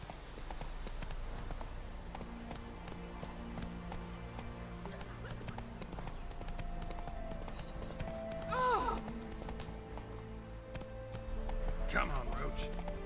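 Roach, Geralt's horse in The Witcher 3: Wild Hunt, gallops with steady clip-clopping hoofbeats over sustained background tones, and two short whinnies rise near the end.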